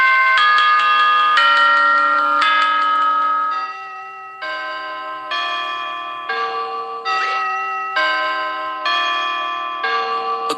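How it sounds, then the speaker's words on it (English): Grandfather clock chime from the Five Nights at Freddy's video game, a melodic bell tune of repeated ringing tones in sequence, clear and fairly loud with sustained ringing notes and no talk. "A grandfather clock, chiming the same song every time."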